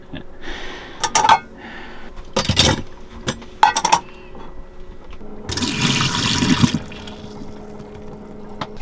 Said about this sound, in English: I think it's about time that I did some washing up today.